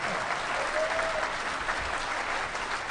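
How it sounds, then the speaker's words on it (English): A large audience at the DEFCON 17 hacker conference closing ceremony claps steadily and densely for the full stretch, with a faint murmur of the crowd under the sound. "You're going to be doing a lot of clapping."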